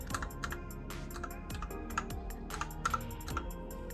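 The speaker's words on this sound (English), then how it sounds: "I'm gonna give you a quick sound test of how the keys sound." Keys on a budget gaming keyboard are pressed in quick irregular bursts, crisp clicky taps close up in a quiet room with no talking.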